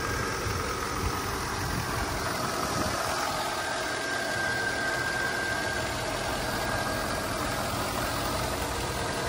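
A Volvo XC70 V8 engine idling steadily nearby, a continuous low rumble with a constant throb and no voices.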